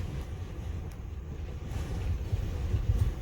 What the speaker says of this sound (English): Certainly now the winds are pounding about 45 miles an hour, gusting to 60 plus.